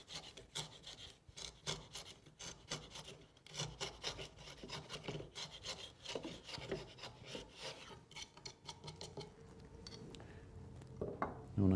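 A router plane shaving a wooden tenon cheek, giving rapid rasping scrapes in close, steady strokes that repeat for several seconds, ending in a louder knock as the tool or workpiece is handled.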